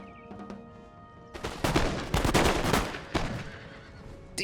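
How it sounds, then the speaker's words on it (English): Musket volley fire in Total War: Empire, a dense crackling burst of many shots rolling together over about three seconds after a few quiet taps, loud and close, with no talk over it. "Let's hear the muskets, boys."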